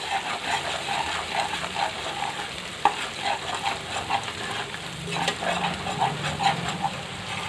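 Ginger paste frying in a pan for Telangana-style mutton curry: a steady close sizzle with a rhythmic scrape and stir throughout and one sharp knock midway.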